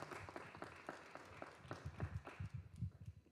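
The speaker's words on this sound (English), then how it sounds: "A round of applause as she comes up." An audience at a social entrepreneur business forum applauds faintly as a speaker comes up, scattered clapping that builds slightly toward the end.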